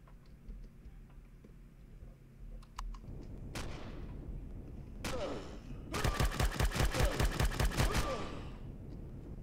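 Automated turret gunfire in the Empyrion space game, a few isolated sharp cracks followed by a rapid, evenly spaced burst of loud repeated shots over a low background rumble.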